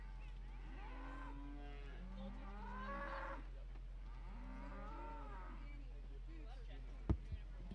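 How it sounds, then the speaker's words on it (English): Shorthorn breeding cattle at a county fair moo in several long, drawn-out calls, fairly close, over a steady low hum, with a sharp knock near the end. "we'll keep moving through these breeding cattle"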